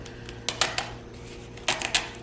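An X-Acto knife slices along the hinge crease of a hardcover book, giving a few sharp, close scratchy cuts in two short bursts with quiet pauses between them.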